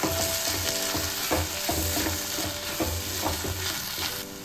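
Chili powder, coriander powder and salt fry in a pan while being stirred, with a steady close sizzle broken by repeated scraping strokes of the spoon, and no talking.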